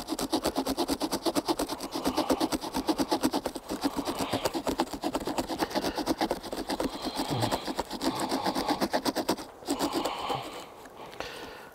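Rhythmic rasping strokes of the offset saw teeth on a TOPS Tracker T4 knife cutting a notch into softwood for camp craft, steady back-and-forth pulses close up, pausing briefly near the end.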